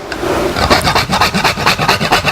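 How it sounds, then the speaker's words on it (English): A whole nutmeg rasps rhythmically across a microplane grater in quick, close, regular back-and-forth strokes, a dry scraping that repeats about a dozen times without any talking. "So we've really used this microplane grater to grate the cinnamon, and now I have some nutmeg."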